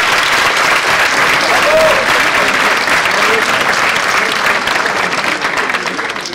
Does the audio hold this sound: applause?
yes